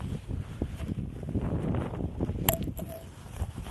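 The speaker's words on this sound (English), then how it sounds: "it's a little bit windy here" Wind gusting outdoors across Roman ruins in Tunisia, buffeting the microphone in uneven low rumbles, with a brief sharp knock partway through.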